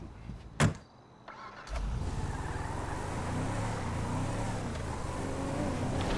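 Car driven in Grand Theft Auto V, a steady engine drone and road rumble that begins after a brief door-like thump and click, then holds loud and even to the end.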